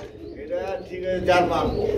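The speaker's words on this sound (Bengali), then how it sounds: "এখানে আরেক জোড়া কবুতর রয়েছে জার্মান শিল কবুতর" German shield pigeons, a pair, cooing softly and continuously at close range in a pigeon sale setting, with low murmuring tones throughout.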